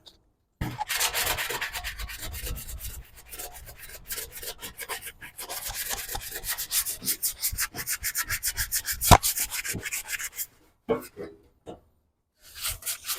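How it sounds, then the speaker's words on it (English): Steady rough scraping of a sanding block rubbed back and forth over wood, close and continuous, fading into a few short strokes near the end. "I personally use this sanding block."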